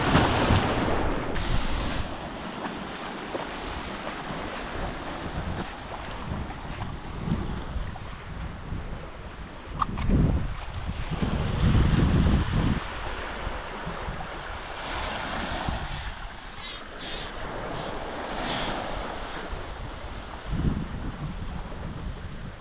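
Small waves breaking and washing around a sailboat in Fiji's Koro Sea, with gusty wind buffeting the microphone and a steady sloshing surge that rises and falls.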